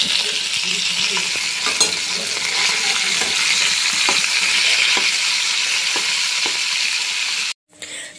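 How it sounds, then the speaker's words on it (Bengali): Koi fish fries in hot oil in a pan with a loud, steady sizzle and faint spatters, broken by a quick cut near the end. "তো অল্প অল্প করে মাছগুলো ভেজে নিতে হবে।"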